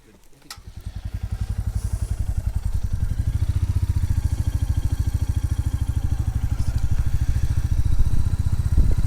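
A motorcycle engine starts up and settles into a loud, close, steady rhythmic thrum with regular pulsing beats.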